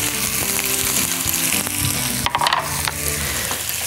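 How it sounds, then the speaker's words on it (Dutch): Diced courgette sizzles steadily in a hot frying pan, with continuous crackling frying noise and a few clinks as the pieces are stirred. "De courgette schep ik om. En die laat ik lekker bakken."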